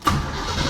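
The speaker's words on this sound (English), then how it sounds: "Cranks it over quick." A car engine cranks over briefly and close by, powered by a JF EGWO battery jump starter, in a quick, loud mechanical churn under a second long.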